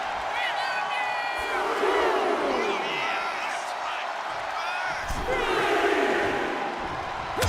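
A crowd in the WWE 2K25 wrestling game keeps up a constant roar with whoops and shouts through the whole stretch, while a commentator's voice runs over the top.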